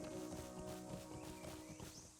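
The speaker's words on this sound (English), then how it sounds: "we just took our horse over it" A horse's hooves clip-clop in a steady, quick rhythm across a tree bridge in Lord of the Rings Online, fairly quiet beneath sustained tonal background sounds.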